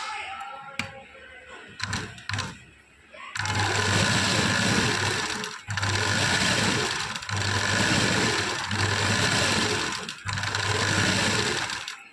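A sewing machine stitches the back neck of a blouse in long, steady motorized whirring runs with a rhythmic needle clatter, broken by brief pauses and a few thumps and clicks as the fabric is adjusted.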